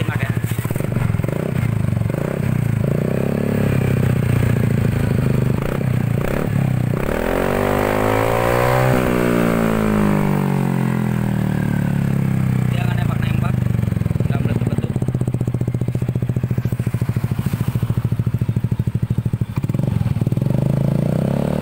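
Yamaha NMAX or Aerox scooter fitted with an F2Racing exhaust revs hard and sustained, the engine note sweeping up and down through loud throttle pulls close to the listener.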